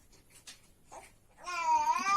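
A baby babbles in short, soft syllables that build into a louder, drawn-out vocal squeal near the end.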